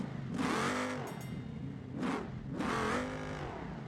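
A nitrous drag car engine in the BeamNG.drive video game revs up in loud bursts, rising and falling several times with a harsh, throaty whine.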